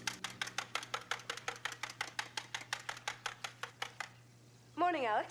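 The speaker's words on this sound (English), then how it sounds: "the sound of the whisk" A whisk beats against a bowl in a Goosebumps episode kitchen, about twenty crisp, evenly spaced rhythmic strokes at a brisk pace, then it stops and a voice begins speaking.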